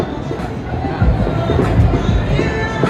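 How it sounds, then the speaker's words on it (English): Nighttime crowd on the Las Vegas Strip, a steady outdoor murmur of many voices with street bustle, fairly near and continuous, swelling slightly midway. "a nice crowd."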